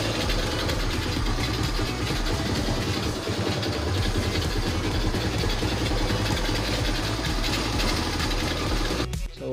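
A stalled motorcycle's engine runs again after being restarted, a steady rapid mechanical chatter idling close by and fairly loud for several seconds before cutting off abruptly at the end.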